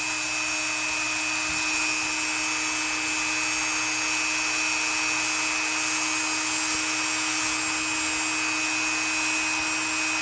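A Dremel rotary tool polishing a Craftsman knife blade, giving a steady, close, high-pitched whine with constant grinding friction that runs unbroken for the whole stretch, with no talking.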